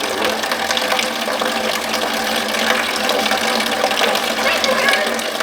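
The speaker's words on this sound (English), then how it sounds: "Alright, I'm gonna go turn the water on there." Household water turned on and running at strong pressure, a steady rushing hiss that holds evenly from start to finish with no breaks.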